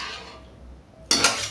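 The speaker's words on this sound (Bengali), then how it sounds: "এরপর আমি ঢাকনা দেব।" A lid goes onto a pot of basanti polao rice on the stove, giving one sharp metallic clatter after a quiet stretch with faint pan noise.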